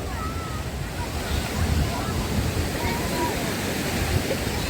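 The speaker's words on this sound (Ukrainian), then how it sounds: "Боже, ну хвилі, такий шторм." Stormy sea waves wash onto the beach at 16th Fontan in Odesa in a constant loud, close roar of surf, with wind buffeting the microphone and a person talking.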